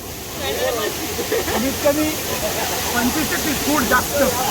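Steady broadband rush of the Chander waterfall near Malvan in Konkan, a constant hiss of falling water with voices talking over it nearby.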